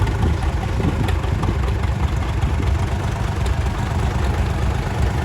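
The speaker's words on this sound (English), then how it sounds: "The next tractor is a Oliver 99, Super 99, the GM diesel." An Oliver Super 99 tractor with a GM diesel engine running at a farm days parade, a loud, steady low rumble of idling diesel with no talk.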